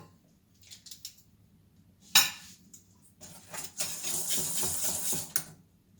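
A whisk beats two egg yolks with powdered sugar in a bowl, starting with a few light taps and a sharp clink, then a sustained stretch of rapid scraping and clattering, close by with no talk.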